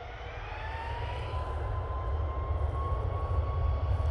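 A Ryanair airliner begins its takeoff roll at Manchester Airport, a steady distant jet roar with a thin rising engine whine, building slightly in loudness over a few seconds.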